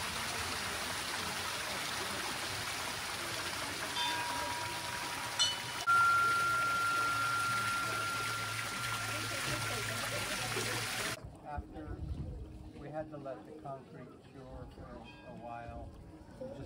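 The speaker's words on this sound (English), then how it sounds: "which is also very soothing with the sound of water" Steady flowing water from a pond around a Ganesha temple at a Hanuman temple on Mount Madonna, a continuous soft rush that gives way to quieter surroundings and talk near the end.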